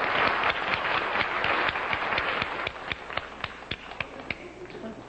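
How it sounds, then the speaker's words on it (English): A studio audience at a 1961 television variety show gives dense applause that gradually thins into scattered, distinct single claps toward the end. "Why are you applauding?"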